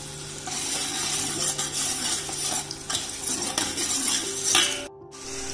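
Spices fry and crackle in a tempering for a large batch of dal as chili powder goes in, with a spoon stirring and clinking against the pot, fairly close, then a brief drop to near silence at the end.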